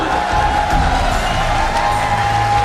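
Applause and cheering from an audience at a business success and recognition event, a dense, steady wash of crowd noise that holds at the same loudness throughout without clear breaks.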